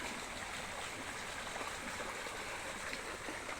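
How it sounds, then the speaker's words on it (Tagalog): A river flows with a steady, broad wash of moving water, even and unbroken throughout, fairly faint and with no voices. "Ito po yung ilog na maraming isda dati."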